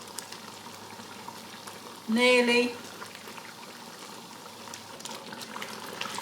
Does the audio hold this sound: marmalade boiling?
yes